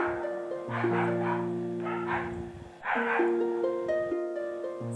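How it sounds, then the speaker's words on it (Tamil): A dog barks and yips repeatedly in short bursts amid steady tonal background sound, fairly close and moderately loud. "வீடியோவுக்கு நடுவில் வந்து ஒரே நாய் குறைச்சலாக இருந்துச்சு"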